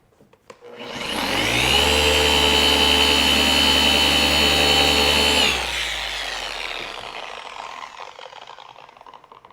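A car paint polishing machine spins up to a loud, steady whirring drone, holds for several seconds, then winds down into a lower, fading whine, with no talk.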